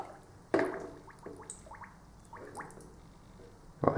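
A Motorola DP3400 two-way radio is lowered into water with a splash, and scattered drips and small gurgles follow. A second splash comes at the end, all heard close and fairly quiet.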